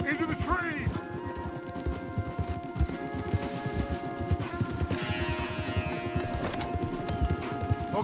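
Horse hooves clip-clop in a steady galloping rhythm in the Red Dead Redemption 2 video game, with a whinny and tonal game music underneath.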